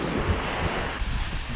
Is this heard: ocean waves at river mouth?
yes